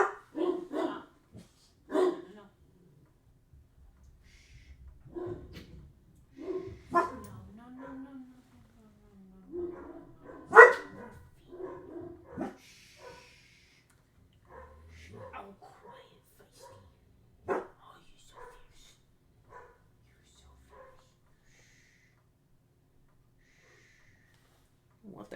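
A dog barks in sharp scattered bursts, some loud and close, spread across a long quiet stretch with voices talking faintly in between.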